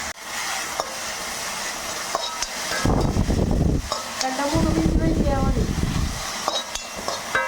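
Sprouted green gram being sautéed in a pan, giving a continuous sizzle broken by clattering, scraping stirs and a couple of heavier knocks, close up, with a voice talking at times underneath.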